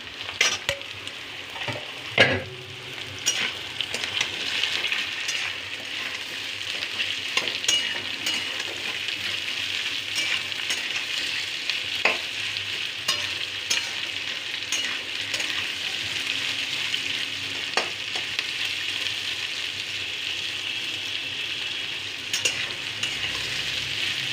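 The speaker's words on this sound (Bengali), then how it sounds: "পেঁয়াজটা কচুটা একসাথে ভাজা ভাজা হবে" Onion and taro sizzle steadily in a hot pan for a long stretch, with occasional sharp scrapes and clinks of a spatula stirring.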